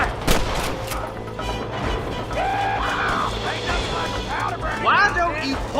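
Scattered gunshots during a shootout with rustlers in Red Dead Redemption, a few sharp reports near the start and end, with characters talking over the action.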